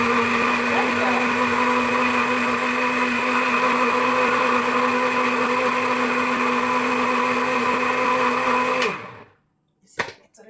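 A blender whirring steadily as it purées watermelon into homemade juice, a loud constant motor whine that stops abruptly near the end, followed by a short clatter.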